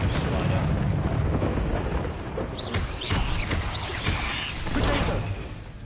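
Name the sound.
Bombarda and Confringo spell explosions in the video game Hogwarts Legacy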